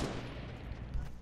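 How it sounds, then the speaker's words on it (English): A burst of distant gunfire in Fortnite rattles on steadily, a muffled stream of rapid shots under a low rumbling background with no talk over it. "I hear gunshots. That's a lot of freaking shooting."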